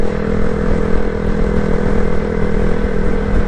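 A 2022 Honda Grom motorcycle cruising steadily in fifth gear, its engine giving a loud, constant droning hum with a steady pitch and wind noise, heard up close from the rider's position.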